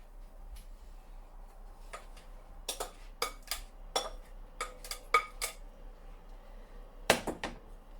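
A spoon scrapes and clinks against a pan as steamed long-grain rice is stirred into a lemon rice mixture, giving irregular, fairly close taps and scuffs with quiet gaps and no talking.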